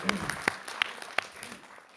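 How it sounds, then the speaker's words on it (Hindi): At a national conference on disability, a handful of separate, sharp claps ring out from the audience. They are sparse and spaced unevenly over two seconds, with faint talk in the background. "हम फिर से एक जोर से इस बारे में हम ताली बजा सकते हैं"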